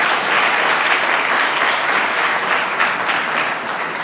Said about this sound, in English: That normally should get some claps.